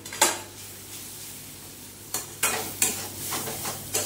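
Fried onions (beresta) go into masala frying in a pot for Mughlai dal, giving a soft steady sizzle broken by several sharp spoon scrapes and clatters against the pan, up close.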